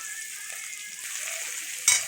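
Chopped carrots fry in white oil in a wok with a steady, hissing sizzle, close by, ending in a brief louder crackle near the end.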